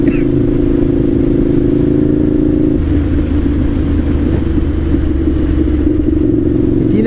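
A 1998 Suzuki TL1000R V-twin sport bike engine heard while riding, a loud continuous rumbling drone with a shift in pitch partway through, close to the microphone.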